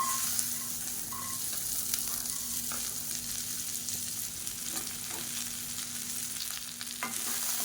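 Chopped okra, about two hundred grams, sautéing in oil in a pan, giving a dense continuous sizzle with a few faint stirring scrapes, close and steady throughout.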